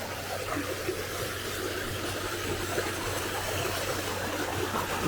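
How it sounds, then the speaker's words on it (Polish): A small waterfall spilling down a hillside along a hiking trail near the Algar falls in Alicante, Spain, a steady broadband rush of water heard at moderate distance, with no talk. "Taki malutki wodospad spływa z góry."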